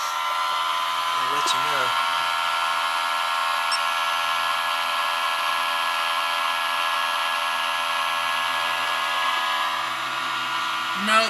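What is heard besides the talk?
electric fuel pump running in a vehicle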